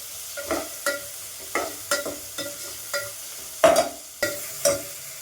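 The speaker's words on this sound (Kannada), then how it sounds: "ಹಾಕಿ ಚೆನ್ನಾಗಿ ಫ್ರೈ ಮಾಡಿ ಒಂದು ಅರ್ಧ ಫ್ರೈ ಆಗೋವರೆಗೂ ಫ್ರೈ ಮಾಡಬೇಕು" Chopped green chilies, fifteen of them, are fried in a pan while being stirred for drumstick palya. Spatula scrapes and stirs come in repeated sharp bursts about every half second over a soft, steady sizzle, with no voices.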